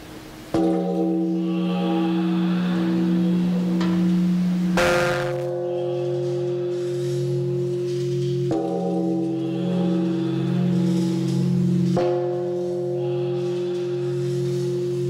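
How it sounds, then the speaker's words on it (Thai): A large temple bell is struck four times at a Thai Buddhist chanting ceremony, each loud stroke ringing out with a long, resonant humming decay before the next strike. "ขอเชิญผู้แทนคณะสงฆ์ย่ำระฆังณบัดนี"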